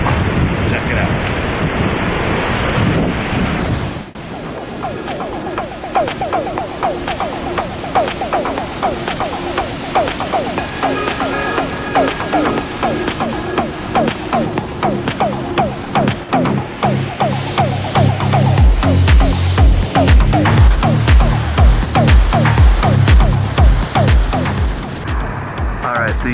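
The Lower Falls in Yellowstone roar as a steady, loud wash of rushing water heard from the brink, buffeted by wind gusts on the microphone and heavy rumbling bursts.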